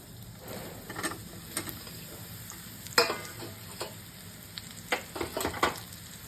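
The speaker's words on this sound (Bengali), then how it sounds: "আজকে মাশরুম ভাজবো হালকা করে" Sliced mushrooms and onion frying lightly in a pan over low heat, a steady soft sizzle broken by intermittent stirring clacks and scrapes.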